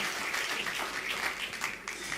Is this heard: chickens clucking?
no